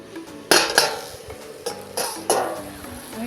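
Metal cooking pot lid set down on a pot of simmering ash gourd, two sharp clanks followed by a few more lighter metallic knocks and rattles, close and clear, with no voice.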